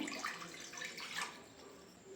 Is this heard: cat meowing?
no